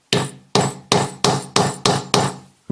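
A hammer strikes a hand setter to fix a snap button, seven sharp metallic blows in an even rhythm, close and loud with quick decay and no speech.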